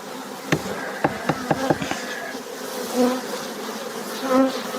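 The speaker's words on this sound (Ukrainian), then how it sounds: "Бджола трошки агресивна зараз, погоди немає, взятку немає." Honey bees buzz in a steady droning hum, slightly aggressive with no nectar flow, with a few sharp clicks and taps early on and swelling, wavering tones later as insects pass close.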